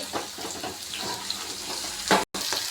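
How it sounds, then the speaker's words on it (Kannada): Onions frying in oil in a pan for masala dosa filling, a steady broadband sizzle with a brief scrape of stirring near the end and a short gap of silence. "ಈ ಕಡೆ ನೋಡಿ ಈರುಳ್ಳಿ ಫ್ರೈ ಆಗಿದೆ"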